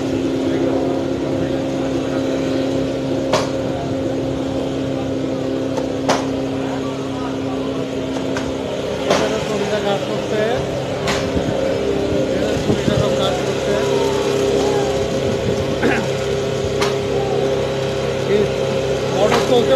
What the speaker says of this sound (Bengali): রেল অনেক দাঁড়ায় আছে, এটা বগি যাচ্ছে, ইঞ্জিন যাচ্ছে